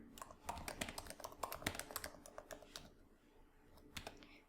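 Quick bursts of key clicks from a computer keyboard while code is typed, close and fairly quiet, dense for the first few seconds and then thinning to a few scattered taps.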